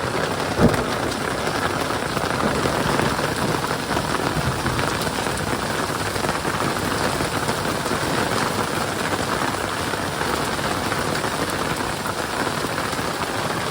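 Heavy rain mixed with some hail lashes down on a boat at sea during a cold, windy storm, a loud, continuous drumming roar that holds steady throughout with no voices.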